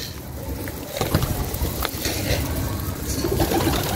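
Pigeons cooing and shuffling inside a loft on a fancier's coop visit, with soft scattered calls and rustling at moderate distance over a steady background bustle.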